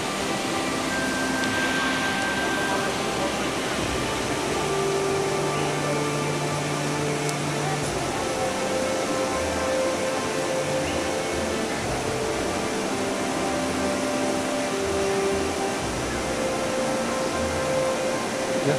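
Fast, powerful water rushing along the lahar path of Semeru volcano and spilling toward a residential area, a loud, steady broadband roar that fills the whole stretch without pause.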